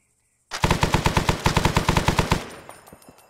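A loud, close automatic burst of about twenty rapid shots in the military shooter Arma 3, cutting off sharply and followed by faint scattered distant reports.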